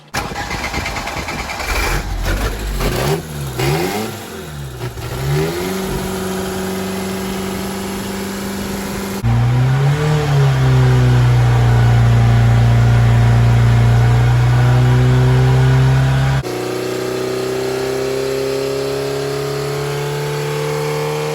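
A Ford Pinto engine fitted with a carburetor is tested in a dyno cell during power pulls: it cranks and fires with a few sputtering blips, then settles and climbs into a loud, sustained high-rev roar before easing back to a lower drone.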